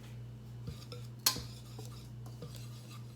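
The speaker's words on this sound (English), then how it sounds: "So we're going to go ahead and whisk that together." A whisk stirs dry ingredients for keto cookies (xanthan gum, salt, baking soda, instant coffee) in a bowl, giving soft scraping and faint clinks with one sharper metallic tap, over a quiet background hum.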